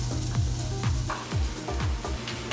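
Onions sizzle in an olive-oiled pan, a steady close frying hiss with a few low stirring scrapes, loud and without talk.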